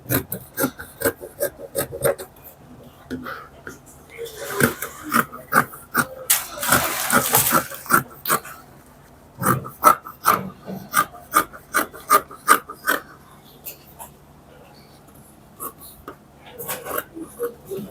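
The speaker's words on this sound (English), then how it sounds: "So now I'm going to go ahead and cut out my sleeve." Scissors or a rotary cutter work through fabric to free a sleeve piece for a bridal robe, giving a run of close, dry snips and rubbing rasps with a denser scraping stretch midway, heard alone without talk.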